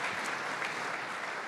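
A church congregation applauds newly baptized people, a steady, dense clapping that fills the whole moment without pause.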